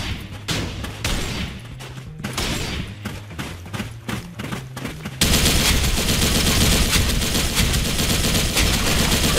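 An RPK74 machine gun fires in the Special Force 2 video game, several fast bursts of loud shots and then a dense sustained roar of continuous fire.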